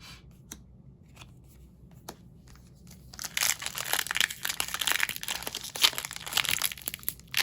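A glued foil wrapper on a trading card collector booster pack is worked at and torn open, a few sharp clicks first, then dense close crinkling and ripping for several seconds, with no one speaking.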